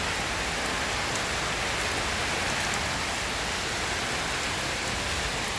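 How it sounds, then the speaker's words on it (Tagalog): Heavy rain pours down in the countryside as a dense, unbroken hiss, loud and constant from start to finish with no voices. "Bigla pong lumakas yung ulan"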